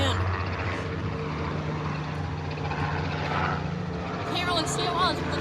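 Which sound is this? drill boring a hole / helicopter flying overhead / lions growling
helicopter flying overhead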